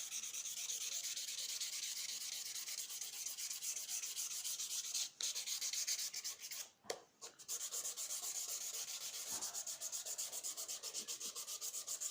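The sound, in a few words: hand sanding a PT Cruiser headlight lens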